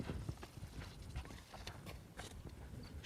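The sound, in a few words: horse moving on the ground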